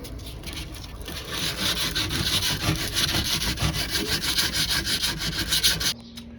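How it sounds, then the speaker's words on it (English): Rapid back-and-forth rasping of 80-grit sandpaper rubbing hard by hand against the chrome grille of a 2004 Jeep Grand Cherokee, continuous and close, stopping abruptly near the end. "so I got to sand all that down"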